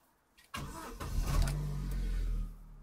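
A car engine cranks briefly, catches and fires up, then settles into a steady idle with a slight swell in revs. It is fairly close and clear, with no talk over it.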